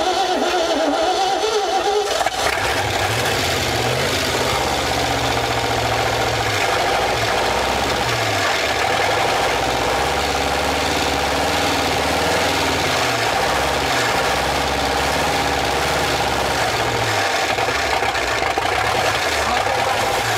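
An old truck engine, abandoned in the woods for over 50 years and fed from a bottle, idles with a steady low rumble and slight knocking, loud and close throughout.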